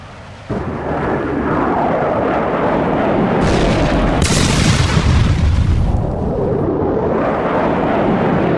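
An MK bomb hits its target in an F-16 flight simulator game, opening with a sudden loud boom that swells into a long, heavy rumbling roar with a brighter crackling burst midway, then settles into a sustained low rumble.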